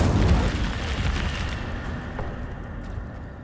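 An Incendio fire spell cast in the Hogwarts Legacy video game bursts with a whooshing, booming flare that fades off over a few seconds, heard alone without talk.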